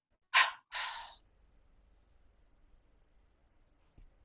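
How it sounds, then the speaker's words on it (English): A tense breath pushed out mostly through the mouth comes as two quick, close, breathy bursts, then near silence with faint room noise. "And then exhale through the mouth and your nose, but most of the air comes out of your mouth like this."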